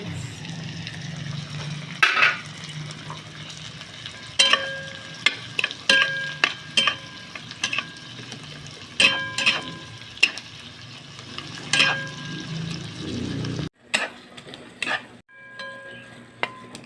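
Tomatoes and onions sizzle steadily in a pan, with repeated sharp scrapes and clinks from a utensil stirring them. The sounds are close and have no talk over them.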